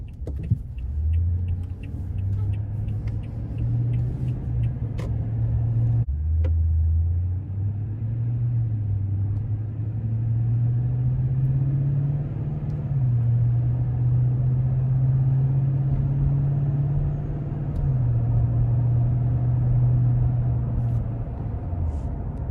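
A 2021 Toyota Tundra SR5 pickup with its 5.7-liter V8 and six-speed automatic drives along, its engine humming as a steady low rumble that shifts pitch a few times, heard from inside the cab with no talk.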